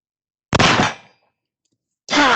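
Two heavy blasts from an 1848 Whitneyville Dragoon Colt Walker revolver. Each is loud and close, with a sharp crack that rings out into a decaying tail, and the shots are spaced about a second and a half apart.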